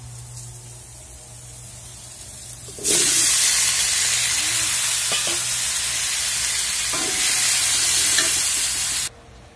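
Chayote pieces go into a pot of balbacua, setting off a loud, steady sizzle and hiss that lasts several seconds with faint stirring scrapes, then cuts off abruptly.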